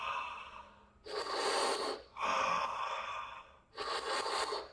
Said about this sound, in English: And use that fire breath.